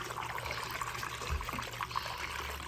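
Milky water trickling and running steadily during a paydirt mining run, a faint continuous flow with small splashes and no speech.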